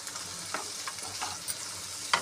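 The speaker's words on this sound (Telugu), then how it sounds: "అందుకోసమని పల్లీలు అయితే వేస్తున్నా. ఇవి కూడా కొంచెం మంచిగా ఫ్రై కావాలి." Peanuts sizzling and frying in a pan while poha is being made, a soft steady hiss with occasional stirring scrapes and light crackles, heard alone without talk.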